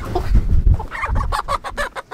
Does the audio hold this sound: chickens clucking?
yes